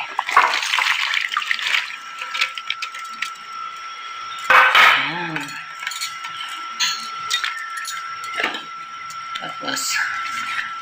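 Vegetables go into a pot of boiling sinigang soup with watery splashing and light clinks of a utensil against the pot, a loud burst near the middle, while a person keeps talking throughout.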